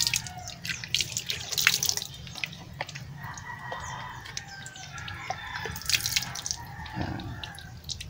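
Running water from a tap washes a plastic float valve part, a continuous splashing trickle with small drips, close by, while a rooster crows faintly in the background.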